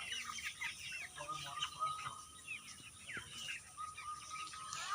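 Broiler chickens on a small home poultry farm cluck and chirp in a steady, busy chorus, the flock close by with overlapping calls throughout.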